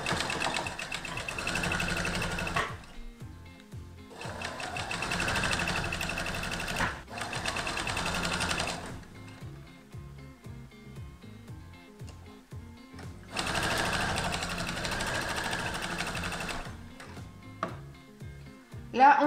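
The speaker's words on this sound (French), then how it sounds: "Je commence par un point d'arrêt et je fais tout le tour." A sewing machine stitches a 1 cm dress hem in three long, steady whirring runs, broken by quiet pauses filled with soft clicks and fabric handling.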